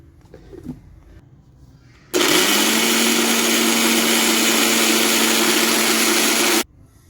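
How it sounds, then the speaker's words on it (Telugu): A mixer grinder grinding dried drumstick leaves into powder whirs loudly and steadily for about four seconds, then cuts off abruptly, with quiet room noise before and after. "ఇప్పుడు మిక్సీ చేసేద్దాం"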